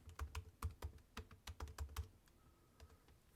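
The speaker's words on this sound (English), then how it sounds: "I will enter Coach Joe" Keys clack on a computer keyboard as a short name is typed, a quick run of crisp, close taps followed by a few softer, sparser keystrokes.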